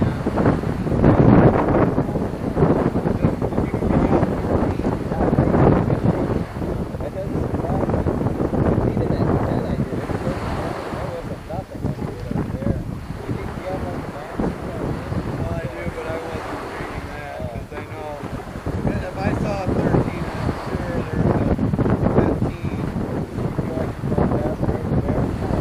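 Strong wind buffets the microphone with a steady roar while waves wash and slap around a small kayak under sail in big winds, continuous and loud through the whole stretch, with faint voice-like bits mixed in.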